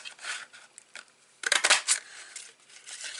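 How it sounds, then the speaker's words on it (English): Scissors snipping through cardstock to cut out a paper starburst shape, a few soft clicks at first, then a short burst of crisp, close cutting strokes in the middle before it trails off. "I just cut my starburst out this"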